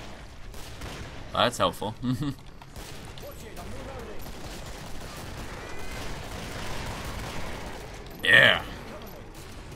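Gunfire from a grenade launcher in a video game comes in two short bursts of sharp cracks, one around the start and another loud blast later, with a person talking quietly in between.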